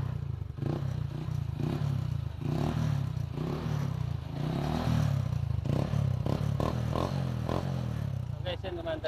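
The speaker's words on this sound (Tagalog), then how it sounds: "Ngayon papanda rin natin motor" A SYM 110 motorcycle engine sputters and idles with clattering, uneven revs throughout, loud and close, while a voice talks over it.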